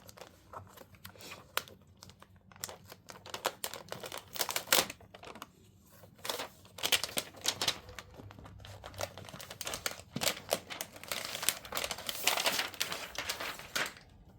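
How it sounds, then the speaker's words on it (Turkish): Plastic protective film crinkles and tears as it is peeled off an ASUS ROG Strix Scar 16 gaming laptop, in irregular close crackling bursts with brief pauses throughout. "Evet, jelatinimizi de açalım."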